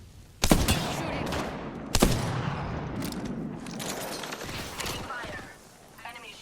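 Shooter video game gunfire on a battlefield: two loud sharp shots stand out early, followed by dense rattling bursts and clattering action that continue steadily and fade near the end.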